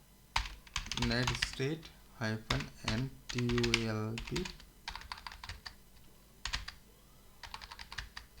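Typing a command on a computer keyboard in a Linux terminal while setting up an FTP server: quick clusters of sharp key clicks in bursts, close by, with someone talking over and between them.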